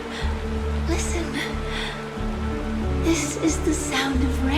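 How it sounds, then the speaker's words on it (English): Steady rain falling in the game Honkai Star Rail, a constant soft wash of patter running under low, hushed voices and faint background music. "This is the sound of rain."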